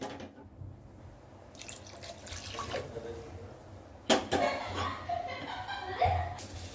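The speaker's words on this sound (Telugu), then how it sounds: "ఇది మాత్రం ఇంకా కొన్ని వాటర్ పడతాయి." More water splashes and drips into a mixer jar during home cooking of goat head curry, irregular pouring bursts with a louder splash near the middle, while someone talks faintly nearby.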